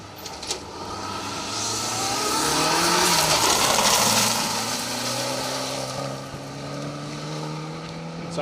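Rally cars, among them a Mitsubishi Evolution 6, race past on a rally stage, a loud engine roar swelling as a car approaches and fading as it leaves, with a commentator talking over it.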